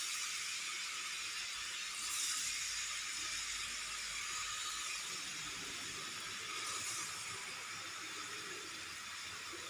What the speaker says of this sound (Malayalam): വെളിച്ചെണ്ണ ചൂടായി വരുമ്പോൾ നമുക്ക് മസാല പുരട്ടി വെച്ച കൊഞ്ച് ഇതിലേക്ക് ഇട്ട് കൊടുക്കാം.